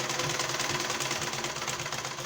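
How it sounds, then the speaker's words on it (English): A sewing machine stitches a shirt collar along the seam allowance, its motor running as a steady, fast mechanical whir with continuous rhythmic needle chatter throughout. "Then start sewing by the seam allowance."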